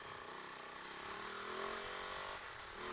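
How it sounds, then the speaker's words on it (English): A Kove 450 rally motorcycle engine drones steadily with wind rush, a continuous ride at moderate revs that swells slightly midway. "I'm riding a rally bike."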